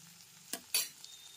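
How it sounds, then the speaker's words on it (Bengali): Quick scrape of a spatula stirring ginger paste with tomato and potato in a hot pan, two brief strokes over a faint background sizzle. "আদা বাটাটা টমেটো আর আলুর সাথে খুব ভালো করে কষিয়ে নিতে হবে"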